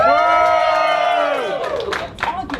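A comedy club crowd cheers and whoops in a show-of-noise vote during a live comedy game show, loud and close with shouting voices, fading into scattered claps and calls near the end.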